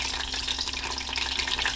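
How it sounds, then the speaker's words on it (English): Egg rolls frying in hot oil, giving a continuous sizzle with dense, crackling pops and spatters, close and fairly loud, with no speech over it. "they're really starting to pop and sizzle"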